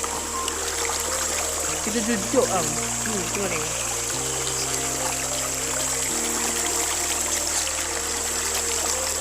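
A river stream flowing near the Tringgus waterfall trail, a steady close wash of trickling water throughout, with people talking casually over it.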